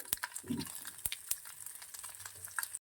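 Dried red chillies and curry leaves fry in hot oil for a tempering, giving a close crackling sizzle with sharp pops and stirring clatter, no voices.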